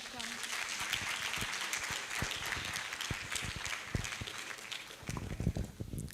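Audience applause at a learning exchange event for students who volunteered to speak, a diffuse, fairly faint spread of clapping mixed with footsteps and movement, with voices talking over parts of it.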